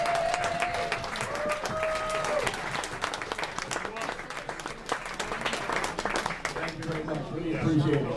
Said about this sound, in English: A round of applause is like this